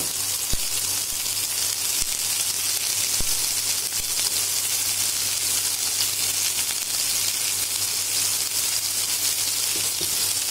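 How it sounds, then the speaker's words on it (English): Chopped onions sizzling in a pan for a tandoori gravy, a constant, close hissing fry with a few faint stirring knocks and no voices. "In the same pan, now we will add the chopped onions to make the gravy,"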